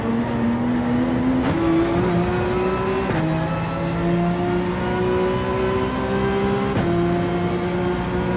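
Race car engines drone together at the start of a Gran Turismo 7 race with a Red Bull race car, the pitch climbing steadily with sharp drops at each gear shift, loud and continuous.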